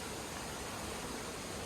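A waterfall near Kent Pond along the Appalachian Trail gives a steady, even rushing roar with no breaks, filling the short stretch on its own without any voices.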